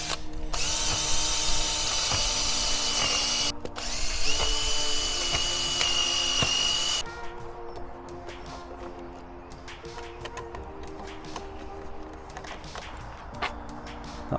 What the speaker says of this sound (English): Now I'm going to drill through with a 6mm bit